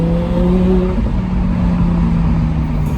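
An Audi R8 V10 cruising on the road, its engine droning with a steady low rumble and a tone that shifts slightly in pitch, heard from inside the cabin with no talking.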